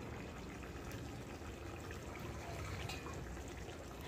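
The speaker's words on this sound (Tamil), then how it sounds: "மிக்சியில் கொஞ்சம் தண்ணி ஊற்றி அலசி ஊற்றி" Water poured into a mixer jar to rinse out ground coconut masala, then tipped into a country chicken curry; a steady close, soft pouring and splashing wash runs throughout without talk.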